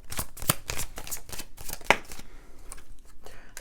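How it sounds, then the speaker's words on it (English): Tarot cards shuffled by hand in a series of quick riffling bursts and soft flicks, close and fairly quiet, with no voice over them. "These cards, I shuffle them"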